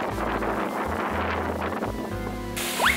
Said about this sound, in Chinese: 它风很大，给大家看一下